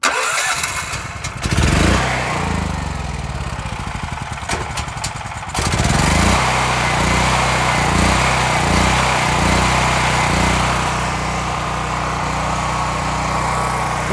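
A small gasoline engine is choked and cranked, catching with sputters and cutting out briefly before firing again at about five seconds and settling into a loud, steady, slightly uneven running putter nearby.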